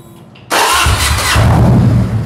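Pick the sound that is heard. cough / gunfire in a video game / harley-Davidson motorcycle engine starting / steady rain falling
harley-Davidson motorcycle engine starting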